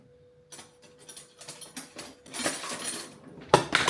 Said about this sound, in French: je vais commencer par émincer mon steak